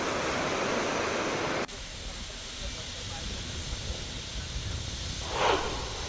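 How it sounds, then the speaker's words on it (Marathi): The Shravankada waterfall at Borghar in Ambegaon taluka plunges from a high mountain cliff, a constant broad roaring rush that fills the scene, louder at first and then slightly softer after an abrupt cut. "डोंगराच्या उंच कड्यावरनं कोसळणारा हा धबधबा"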